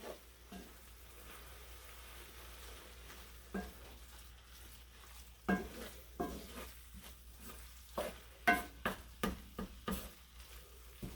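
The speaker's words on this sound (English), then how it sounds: "And we're just going to stir this all up." A mustard mixture is stirred in a hot pan: quiet sizzling under a series of scraping, clicking utensil strokes that come in a steady rhythm, growing more frequent in the second half.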